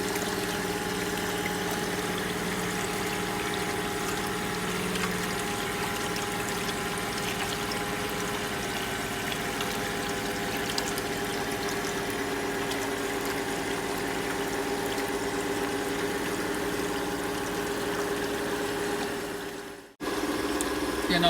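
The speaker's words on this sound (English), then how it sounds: "the water is flowing from the channel into the drain tank and with the passing through the crested weir." Water pouring from a channel over a sharp-crested weir into a drain tank in a hydraulics lab, a steady rushing flow with mechanical pump hum, continuous and fairly loud before cutting out briefly near the end.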